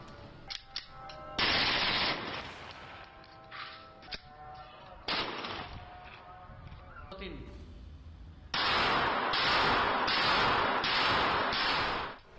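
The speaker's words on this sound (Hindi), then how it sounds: "सड़क पर गोलियां बरसाने वाला दीदा दिलेरी से फायरिंग करता" Gunfire from a man shooting a gun on streets and rooftops in Lahore: scattered sharp shots, then a rapid burst of repeated cracks near the end, mixed with background voices and street noise.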